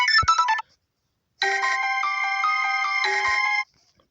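Nokia phone ringtone plays as a bright electronic melody, first a brief burst of notes, then after a pause a longer steady run of ringing tones, loud and clear with no talk.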